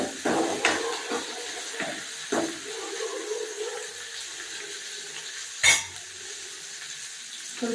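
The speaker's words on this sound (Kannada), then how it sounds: "ಸ್ವಲ್ಪ ಫ್ರೈ ಆಗಲಿ ಸೊ ಈರುಳ್ಳಿ ಫ್ರೈ ಆದಮೇಲೆ" Onions fry in a pan for hotel-style bisi bele bath under a low, steady sizzle, broken by several sharp clanks and scrapes of a utensil, one loud knock near the end.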